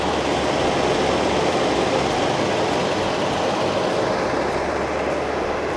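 A Mercedes R107 420SL engine idles with a steady, even rumble throughout at constant level, with no talking or changes in pitch.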